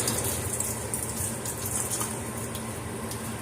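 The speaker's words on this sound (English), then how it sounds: "And I give it a good couple of rinses" Purified drinking water pours steadily over cilantro being rinsed, a continuous close gushing splash with no talk.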